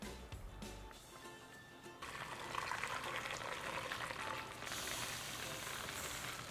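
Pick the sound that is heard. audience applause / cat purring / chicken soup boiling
chicken soup boiling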